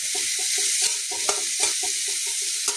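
Onion blended to a paste fries in a pan on an electric heater, a steady bright sizzle over a rhythmic series of soft stirring scrapes, with no talking.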